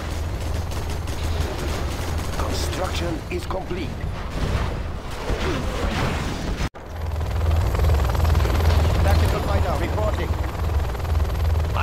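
Aircraft roaring in C&C Generals Zero Hour as a China Nuke General, a loud continuous engine drone with a low throb, briefly cut once midway, over game effects and announcer voices.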